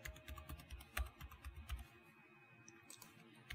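Keys clatter on a computer keyboard as a new password is typed for a networked security camera device, a quick irregular run of soft clicks for about two seconds, then near silence with a few faint taps.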